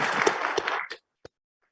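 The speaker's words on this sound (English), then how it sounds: "Can we give him a warm round of applause?" Applause in a state Senate chamber during a floor session: a roomful of clapping for about a second that cuts off abruptly, followed by one faint stray clap.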